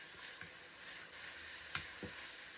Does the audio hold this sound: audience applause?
no